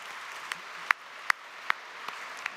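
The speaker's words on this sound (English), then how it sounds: "Ladies and gentlemen, a round of applause." Scattered claps from a mining club luncheon audience in Melbourne, a few sharp isolated hand claps standing out over a faint wash of background clapping, sparse and moderately distant.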